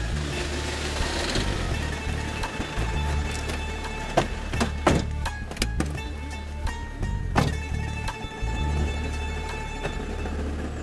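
A car starts up and pulls away with a low engine rumble, and sharp clicks and knocks of doors or handling break in over the top.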